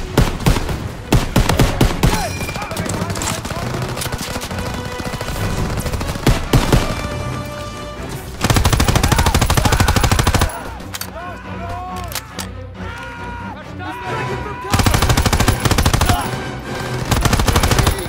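Gunfire in Call of Duty WW2 during a tank and rescue mission in Aachen: loud bursts of automatic weapon fire with single shots, explosions and shouted voices mixed with game music.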